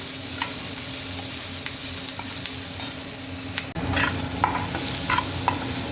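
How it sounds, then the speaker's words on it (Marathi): Onion frying in a pan until brown, a constant close sizzle with occasional stirring scrapes and a brief bump partway through. "कांदा टाकलाय आपण. त्याला छान ब्राऊन होईपर्यंत परतून घेऊया."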